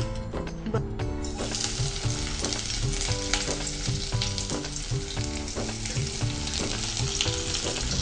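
Cauliflower pieces sizzle and fry in hot oil over a high gas flame, a loud, dense, steady crackling hiss that runs continuously throughout without any talking.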